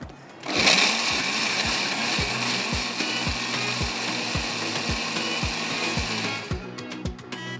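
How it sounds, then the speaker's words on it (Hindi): A blender grinds milk and rice for kheer, a loud continuous whirring roar that starts abruptly, runs steadily for about six seconds, then cuts off. "इसको मैं ब्लेंडर को चला देती हूँ।"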